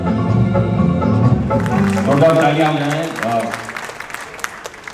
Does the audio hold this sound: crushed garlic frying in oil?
no